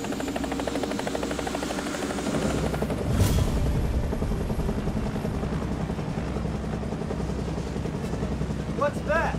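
Helicopter rotor thudding in a rapid, continuous chop, loud and close, with shouting voices under it.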